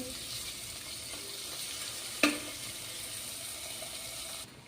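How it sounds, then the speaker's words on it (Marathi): A bowl of finely chopped tomatoes sautéing in ghee, with a steady close hiss throughout, one sharp utensil tap midway, and the sizzle cutting off just before the end. "आता यामध्ये आपल्याला टाकून घ्यायचं आहे बारीक चिरून घेतलेला एक वाटी टोमॅटो तर टोमॅटोही आपल्याला व्यवस्थित परतून घ्यायचा आहे"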